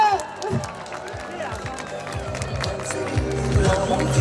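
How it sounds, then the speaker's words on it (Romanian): Applause at a school key-handover ceremony: a room of students, parents and teachers claps in a dense, swelling patter while voices and crowd noise rise underneath. "Aplauze!"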